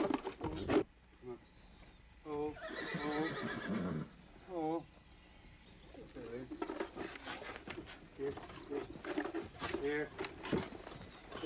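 A three-year-old halter-broken mare neighs and whinnies repeatedly while being broken to the saddle, loud and close, with hoof clops and a voice talking to her in between.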